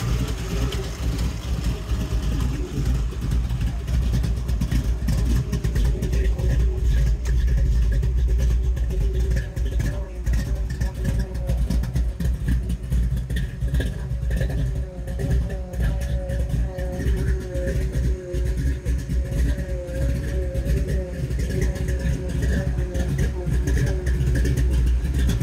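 A 1963 Ford Galaxie's 460/577 V8 with tunnel ram, dual quads, solid lifters and ported Edelbrock heads idles lumpy and loud, rumbling steadily with choppy lope and brief rev blips, close up throughout.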